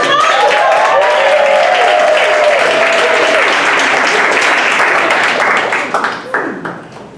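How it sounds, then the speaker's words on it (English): An audience gives a round of applause at a classroom event, a loud, sustained roar of many clapping hands with cheering voices over it, thinning out toward the end into a few scattered claps. "Round of applause for"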